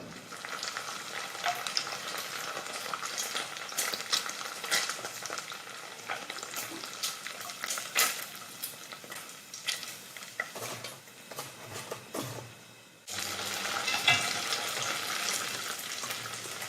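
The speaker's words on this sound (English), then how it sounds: "then we're gonna fry these in a couple of batches till they're crispy" Vegan street food deep fries in oil at about 160 °C in Kuala Lumpur, giving a dense, crackling sizzle with bursts of popping. It pauses briefly, then returns louder and close, with no talking.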